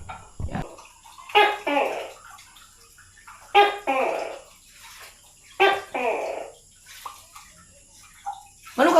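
Water runs and splashes from a tap in a steady flow, heard in bursts as people talk over it close by.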